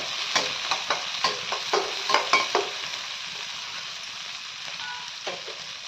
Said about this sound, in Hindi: 2-3 लहसुन कटा हुआ और प्याज बारीक कटा हुआ 2। सभी को थोड़ा भून लेती हूँ इस तरह से।